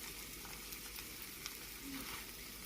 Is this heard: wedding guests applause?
no